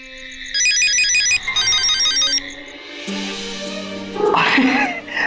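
A mobile phone plays a bright electronic melody ringtone in repeated bursts, followed by a lower tonal pattern and a short rising electronic flourish, loud and close with no talk.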